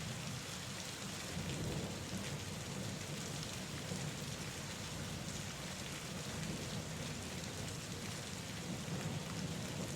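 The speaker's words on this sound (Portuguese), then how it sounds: "Se você está gostando dessa atmosfera sombria ao som da chuva" Steady heavy rain pours on surfaces with low rumbling thunder rolling underneath, a dense continuous wash of sound lasting throughout with no voices.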